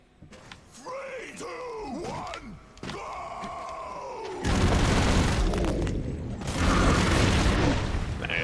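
Rockets rain down in the Broforce video game, and a heavy wall of booming blasts and crackling debris erupts loudly in two bursts near the end. Before it, a voice speaks with swooping, wavering pitch.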